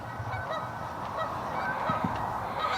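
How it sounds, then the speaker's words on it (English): Ducks quacking across the water on the other side, distant and fairly faint, several scattered honking calls over a steady outdoor background, with no talking. "I hear a bunch of duck quacking over on the other side."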